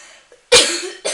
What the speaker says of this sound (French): J'ai une toux, je sais pas.